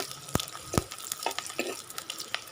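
Onions frying in a pan over a high flame for a broiler chicken curry, a steady soft sizzle punctuated by two sharp utensil clicks and light scraping strokes nearby.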